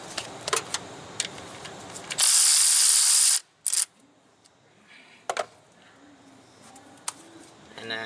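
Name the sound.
ratchet turning a 1/4 inch socket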